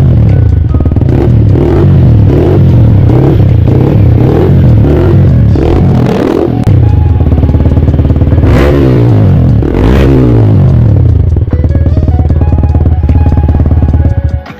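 A loud Yamaha R15M exhaust without its dB killer revs repeatedly, rising and falling in sharp bursts, raw and unmuffled, with clattering blips and a final drop-off.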